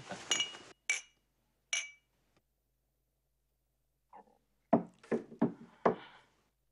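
Glasses clink together in a toast at a banquet gathering in Shanghai: three quick, sharp chinks, then after a pause a second burst of four or five clinks, with no talking.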